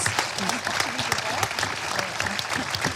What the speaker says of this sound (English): join me in one last round of applause